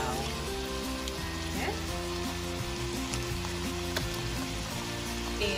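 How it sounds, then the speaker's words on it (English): Lamb fried rice with peas and carrots simmers and sizzles steadily in a pan, a continuous close crackle with a few faint clinks over a low background hum. "we are going to simmer this for like 2 or 3 minutes just to cook our peas and carrots"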